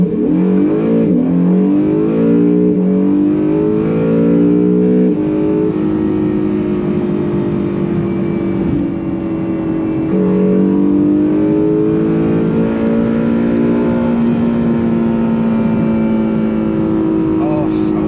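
A 2018 Acura NSX in track mode accelerates hard from low speed onto a highway, its engine note climbing in loud rising sweeps that drop back and rise again as the gears change, heard close from inside the cabin.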